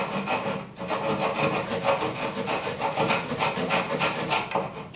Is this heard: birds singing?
no